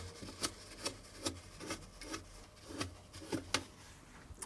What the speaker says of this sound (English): clean off the agitator